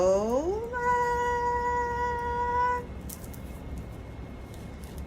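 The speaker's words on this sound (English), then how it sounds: "I think someone's cat got out." A cat meows in a long, rising, clearly pitched call that holds steady for about two seconds, then breaks off, leaving a low background hum; a voice speaks briefly.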